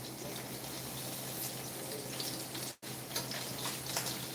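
Tomatoes rinsed under a running kitchen tap give a steady, even stream of water hiss at moderate level, broken by one very brief cut just before the end.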